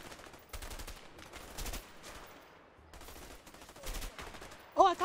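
Enemy gunfire in the co-op video game A Way Out, with bursts of rapid shots recurring across the scene at moderate level, sometimes under a player's voice.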